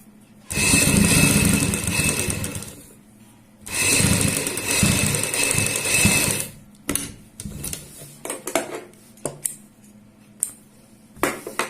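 A sewing machine runs a seam in two long continuous bursts of rapid whirring stitching, then a stretch of shorter stop-start runs and clicks.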